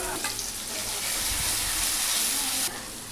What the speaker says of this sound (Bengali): এরপরে সেই তেলের মধ্যে পেঁয়াজ কুচি টমেটো কুচি কাঁচা লঙ্কা কুচি দিয়ে ভালো করে নেড়ে চেড়ে নেব